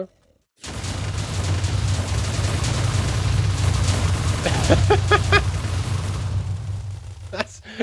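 Chain Explosion skill going off in Tensura: Advent of Magic, a dense barrage of rumbling game explosions with a run of sharp rapid blasts near the end, loud and continuous with no talk.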